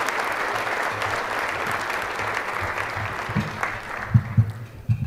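An audience breaks into sustained applause to welcome guest speaker David Albright at a Dining in the Dark event, with dense, steady clapping and a few louder individual claps near the end.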